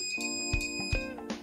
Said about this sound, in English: We'll beep this collar.